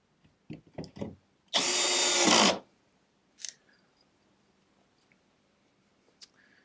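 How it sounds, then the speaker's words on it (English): A power drill drives screws into a small wooden planter box frame: a few short clicks and taps, then a single loud burst of drilling about a second long, followed by quiet handling knocks. "now I'm just going to put screws in all the way around this thing"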